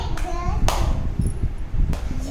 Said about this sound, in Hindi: ताली मारिबा ताली तीनटा ताली मारिक देखिए देखिए।